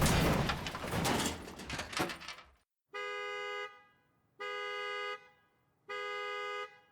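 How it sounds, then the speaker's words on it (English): A hover car alarm in an audio drama sounds after a jarring collision: a noisy crunching impact fades out, then three loud evenly spaced electronic horn blasts sound, each about a second long. "I hit the hover car behind me, triggering its alarm."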